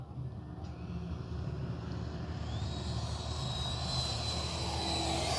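A HobbyKing FlyCat V2 RC jet makes a low pass with its landing gear down on a hot day, a steady electric-ducted whine that rises gradually in pitch and loudness as it nears, over constant outdoor background noise.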